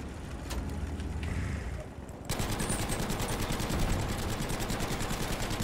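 Rapid automatic cannon fire from a Staghound T17E1 armoured car in Battlefield V, a steady stream of close, loud repeated shots after a brief quieter lead-in, with broadband battlefield noise throughout.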